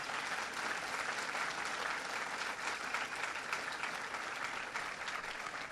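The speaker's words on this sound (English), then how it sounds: "That's worth applauding." Sustained applause from an audience at a public event in Mountain View, California, praising HUD officials; thick, continuous clapping at steady loudness from a large room, slightly distant.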